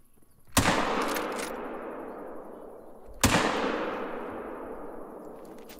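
Two loud rifle shots from a 45-70 in the hunting video game Call of the Wild, set in Africa, each a sharp crack followed by a long echoing decay rolling across open terrain, a few seconds apart.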